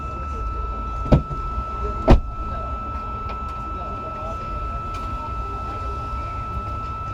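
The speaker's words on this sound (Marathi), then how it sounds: "एक सेकंड मी जरा गाडीचा दरवाजा बंद" Two sharp, close thuds come from a newly bought car's door being shut, about a second apart, over a steady low background hum with people talking nearby.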